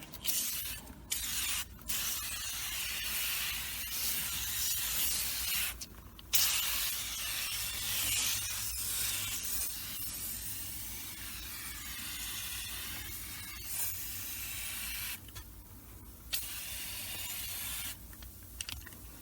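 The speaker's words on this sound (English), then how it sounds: "And then just spray it all around here." Repeated hissing bursts of an aerosol carpet and fabric dry cleaner sprayed inside a C4 Corvette, including the door sill, several short and longer blasts close by, with light rubbing and handling noises in between.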